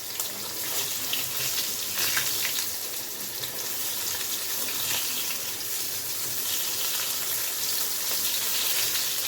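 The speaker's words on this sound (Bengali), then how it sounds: "মোটামুটি মাছটা ভেজে নিচ্ছি" Catla fish frying in a pan of oil for a Bengali ridge gourd curry, giving a steady, dense sizzle and hiss that holds evenly throughout with no voices.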